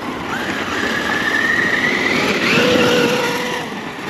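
A Traxxas UDR RC truck on 4S power drives around with a steady high-pitched electric motor whine that rises and bends in pitch as it speeds up and turns, fairly close and continuous over outdoor background noise.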